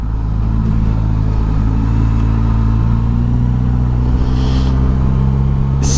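Suzuki GSX-S 1000 GX motorcycle engine under way, a steady low droning hum with smooth harmonic bands holding even throughout, loud and continuous with no talk over it.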